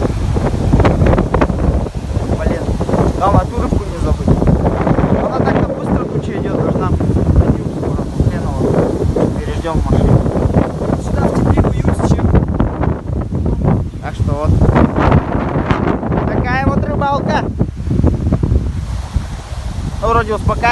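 Strong gusting wind batters the microphone by a river while fishing, a heavy continuous rumble and roar throughout, with people talking now and then beneath it.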